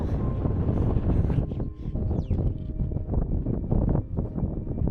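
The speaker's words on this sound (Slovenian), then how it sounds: "Piha pa res prav grdo mrzlo." Strong, cold wind on a mountain summit on Vrtača, roaring and buffeting against the microphone in continuous loud gusts with no voices.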